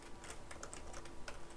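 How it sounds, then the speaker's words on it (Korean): A few quiet key presses on a computer keyboard, including the Tab key, tapped in a loose cluster with faint background hiss. "탭 키를 눌러서"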